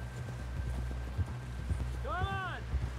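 Horse hooves clip-clop at a walk in the video game Red Dead Redemption 2, soft irregular thuds beneath low ambient rumble, with a brief horse whinny partway through and no speech.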